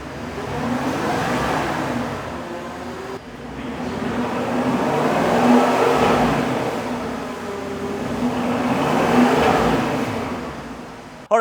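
A Porsche Cayenne engine with a modified, louder exhaust roars loudly and close, rising and falling in long swells of revving with a deep, rumbling tone and no talking.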